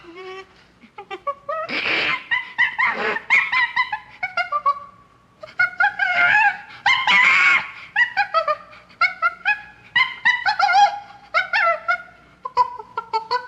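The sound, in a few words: purported Bigfoot vocalization from Sierra sounds recording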